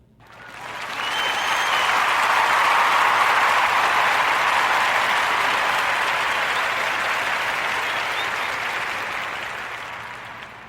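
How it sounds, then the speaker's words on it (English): Sustained applause from an audience honoring a virtual therapy clinic, a broad wash of many hands that swells quickly, holds steady, and slowly tapers off, with no voices over it. "a warm narrative podcast round of applause for their virtual therapy clinic, Virtual Therapy LLC."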